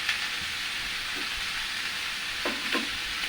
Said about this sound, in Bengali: এবার সেগুলোকে দেবো আস্তে আস্তে একটু কষিয়ে নেবো